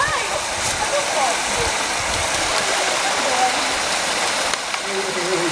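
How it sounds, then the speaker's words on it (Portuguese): Water from a spring pouring into a stream makes a steady, close rushing wash that runs unbroken throughout, with people talking over it. "Olha a nascente."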